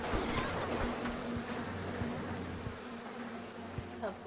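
Insect buzzing from bees in the video game Bioshock, a steady droning hum with faint tonal lines that carries through the whole stretch at moderate level.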